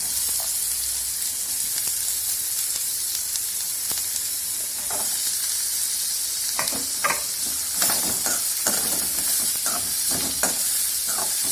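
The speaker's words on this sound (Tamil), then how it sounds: "நல்லா இப்படி நம்ம வதக்க வேண்டியதுதான்" Chopped onions with curry leaves and popped mustard seeds sauté in hot oil for shark puttu, giving a steady, close sizzling hiss broken by intermittent scraping and clinking of a stirring spoon against the pan.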